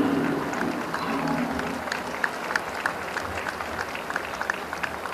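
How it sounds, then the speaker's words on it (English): Crowd applause fills a football stadium, a broad sustained wash of clapping from a large audience that holds steady and slowly thins, with distant crowd noise beneath. "one more round of applause for our Alumni Council"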